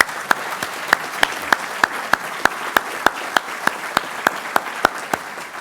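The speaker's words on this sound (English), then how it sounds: "Let's give them a round of applause." An audience at a military change of command ceremony applauds, a steady bed of clapping punctuated by loud, evenly spaced sharp claps from one nearby person, roughly three per second.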